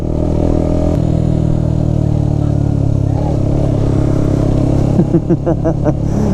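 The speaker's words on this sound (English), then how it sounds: "ooh, the throttle is very bitey. But yeah, it feels good to be on the bike again" Motorcycle engine with a sticky, bitey throttle runs steadily and loud and close, with a few sharp throttle blips near the end, while a person talks over it.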